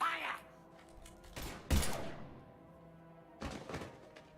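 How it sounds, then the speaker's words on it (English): Gunfire erupts in Mass Effect 3, a sci-fi shooter game: a few sharp, loud bursts of shots separated by pauses, with a heavy impact thud in the middle. "Now open fire!"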